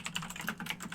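Someone types on a computer keyboard, quick irregular keystrokes that are close and clear, with no other sound.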